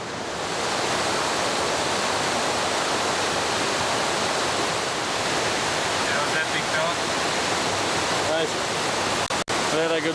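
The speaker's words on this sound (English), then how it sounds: "That's a mad river crossing, man." A wild river rushes at a crossing on the Kokoda Track, a loud, unbroken roar of whitewater close by throughout, with faint voices briefly under it and a short dip near the end.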